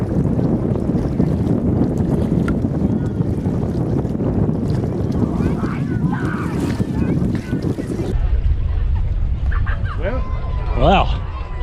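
Distant, low rocket rumble from a Falcon 9 launching a Crew Dragon on its first crewed flight, heard from afar as a broad, steady roar mixed with wind buffeting; after a few seconds a bird calls near the end.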